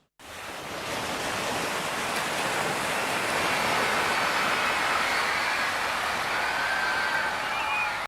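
Storm-driven sea waves surge into a seaside fish restaurant, a loud, sustained roar of rushing water and surf that swells in quickly and holds steady throughout.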